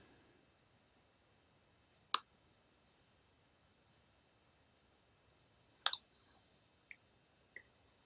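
A computer mouse clicks on a login button during a web security demonstration, giving a few faint, sharp clicks spaced apart over a quiet background.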